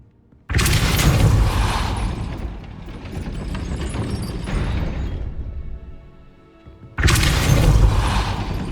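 A heavy gate mechanism in Hogwarts Legacy rumbles and grinds loudly for several seconds, fades briefly, then a second powerful rumbling burst starts near the end.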